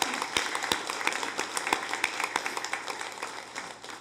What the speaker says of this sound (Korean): 우리 격려의 박수 한번 보내드리겠습니다.